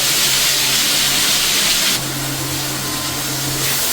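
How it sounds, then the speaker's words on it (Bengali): Potatoes, tomatoes and other ingredients for an egg curry frying in a pan, a steady loud sizzling hiss with a faint low hum beneath, continuous throughout with no talk. "সমস্ত উপকরণ ভালো করে ভাজা হওয়ার জন্য আবার অপেক্ষা করব"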